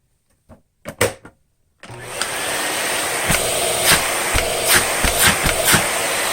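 A Miele vacuum cleaner being switched on after a few clicks and handling knocks, then running loud and steady with a constant whine and occasional bumps.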